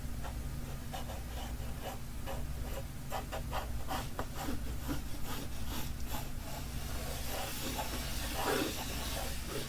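A pencil lightly sketches an oval on paper, a soft continuous scratchy rubbing with repeated short strokes, close and quiet throughout.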